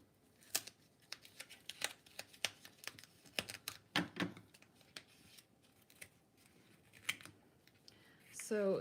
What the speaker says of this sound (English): So these glitter scissors have turned into my foam scissors because it sticks.